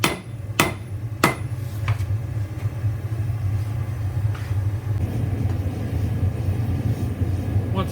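Hammer strikes on hot metal at an anvil beside a propane forge, a few sharp ringing clangs early on, then softer taps over a steady low roar of the burner, close by.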